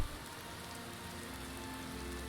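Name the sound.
rain in a video game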